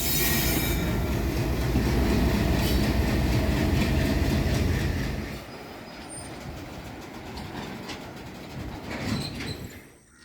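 A train rumbles loudly past through a busy railway junction with clattering wheels and metallic squeals, then the noise drops away to a quieter distant rolling and occasional screeches.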